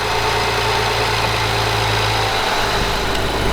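A BMW E92 335i with a 6-speed manual idles smoothly and steadily, a loud, even engine hum with a low rumble and no rattle throughout.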